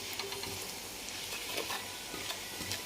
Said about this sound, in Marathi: काळं तिखट, काळा मसाला आणि थोडीशी हळद, हे आपण टाकून घेऊ तेलामध्ये.